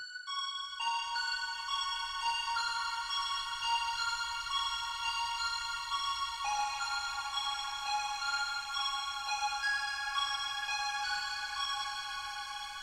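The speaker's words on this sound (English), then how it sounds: "it is basically just a square wave with a chorus on it, and it has some detune on it" A synth lead built in Serum from a square wave with chorus and detune plays bright, sustained, slightly wavering notes in a steady melodic line, heard alone and fairly quiet throughout.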